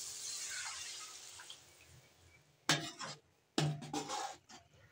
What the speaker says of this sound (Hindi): तो हम इसमें 1 पूरा डिब्बा पानी का भर के डाल रहे हैं।